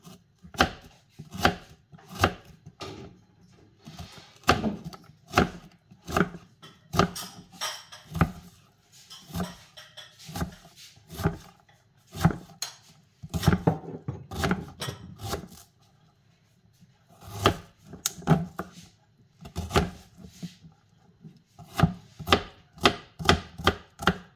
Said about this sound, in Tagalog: ihiwain lang natin ng pino yung ating ating onion